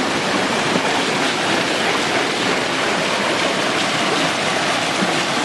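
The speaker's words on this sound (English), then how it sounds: "And when we turn it on, the wheel will start to turn." Water rushing down a mill race stream to drive a waterwheel, a constant loud hiss and churn of flowing water, steady and close with no voices.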